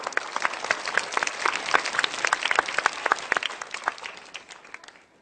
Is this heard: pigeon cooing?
no